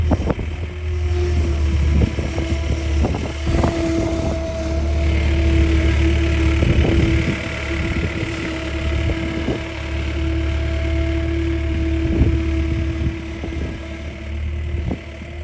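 A skid steer's diesel engine idles and works steadily while moving a cable spool from a shipping container to the end of a cable run, a constant mid-pitched drone with occasional louder knocks and clanks.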